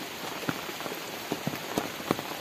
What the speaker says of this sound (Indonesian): Yang bikin adem itu hujannya. Dari tadi hujan terus.